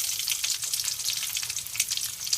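Mustard seeds and urad dal frying in sesame oil in a pan for horse gram rasam, a close crackling sizzle with rapid pops and spits, fairly quiet and without talk.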